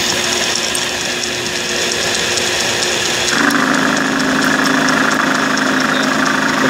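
A metal lathe runs steadily at 720 RPM while turning 6061 aluminum, giving a continuous mechanical hum that shifts to a louder, brighter whine partway through as the cut engages.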